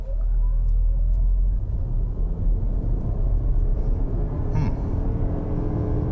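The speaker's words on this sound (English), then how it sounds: "We'll go ahead and we'll floor it." Steady, loud engine and road rumble inside a 2023 Lexus RX 500h F-Sport Performance hybrid SUV accelerating hard in sport mode, a continuous drone with no pause or talk.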